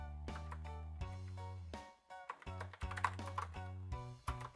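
Someone types on a computer keyboard in irregular bursts of key clicks, close by and fairly loud, with a brief pause around the middle, while setting up a Raspberry Pi Zero 2 W network share.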